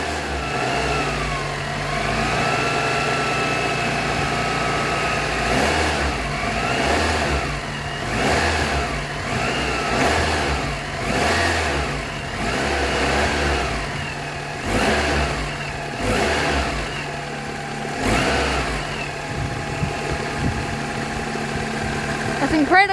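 A Holden Apollo / Toyota Camry engine, started for the first time in months, is held at a raised throttle, humming steadily with rhythmic swells in revs and fan noise while someone talks nearby.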